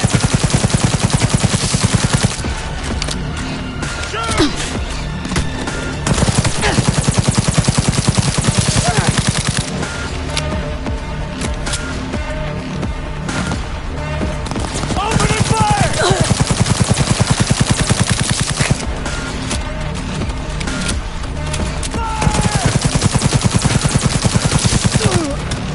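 Sustained automatic weapon fire in Cyberpunk 2077, loud rattling bursts that swell and pause in waves, with a voice shouting commands at moments amid the shooting.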